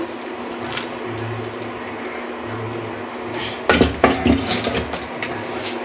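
Spicy Bengali koi fish curry poured out of a cooking pot after the stove is switched off, with a few close metallic clinks and scrapes of utensil on pot over a quiet room background.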